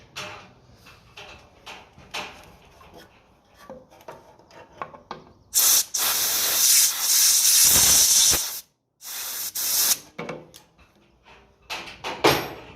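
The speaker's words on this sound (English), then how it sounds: "I'll just give it a blow out there with the air gun before I go over the compressor there" Compressed air gun blowing out a diesel fuel pipe from a 1955 Ferguson TEF 20 tractor: loud broadband hissing bursts, one long blast of about three seconds and a shorter one after, between quieter workshop handling noises.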